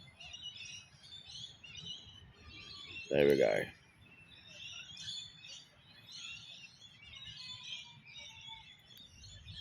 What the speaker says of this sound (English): Looking at this bird.